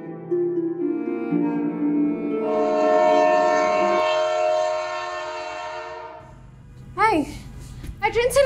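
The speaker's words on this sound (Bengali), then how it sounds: "ট্রেন ছেড়ে দিতেছে তো, তাড়াতাড়ি আসো।" A train horn blares steadily for several seconds near a station as the train pulls out, with rumbling railway noise beneath and children's and adults' voices rising over the end.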